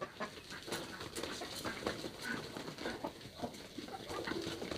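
Black Australorp chickens of the Australian breed, with a rooster among them, fill a farmyard with steady, busy clucking and scratching noise that runs continuously at moderate volume.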